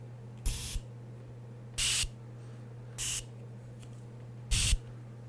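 Burn spray hisses from an aerosol can in four short bursts of varied length, close and clear over a steady low electrical hum, with no talking.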